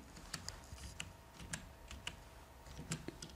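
Quiet, uneven keystrokes on a computer keyboard, a scatter of soft clicks at an irregular pace heard alone in a hushed room.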